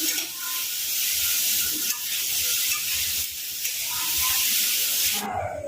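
Capsicum and egg with a little sugar sizzle and hiss continuously in a hot pan, with a steady bright frying crackle and occasional stirring scrapes, loud and close throughout.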